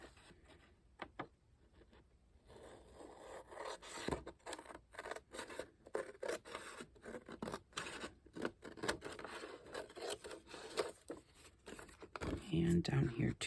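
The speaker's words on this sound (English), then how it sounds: "the first thing we're going to do is cut off the excess page" Scissors cutting the excess page off a handmade budget journal, giving irregular close snips and paper scrapes and rustles under intermittent talking.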